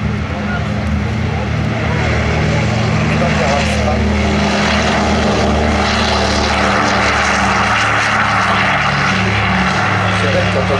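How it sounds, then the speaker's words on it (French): A P2 propeller warbird at the La Ferté-Alais air show rumbles loudly and continuously as it taxis nearby, a deep steady engine drone, with an announcer talking over it. "Le P2 au roulage, Cyril Farraguet."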